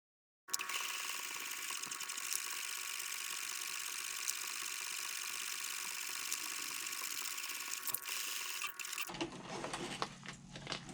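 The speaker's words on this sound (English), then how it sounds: "this should get sewn at a 1/2 inch seam allowance" A sewing machine stitches a handbag liner panel at a half-inch seam allowance, a steady close whirring hum running continuously for about eight seconds before stopping abruptly, followed by quieter handling noise.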